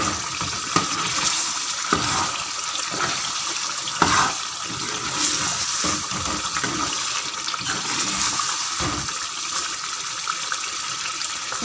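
Beef korma being stirred in a pot, with scraping, wet sloshing and soft clunks of a spoon over a low sizzle, fairly faint and close.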